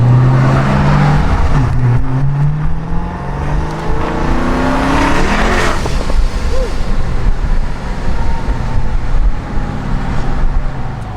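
Dodge Scat Pack with a Procharger supercharger pulls hard under acceleration, its loud engine tone climbing through the gears with supercharger whine, close and continuous for about eleven seconds.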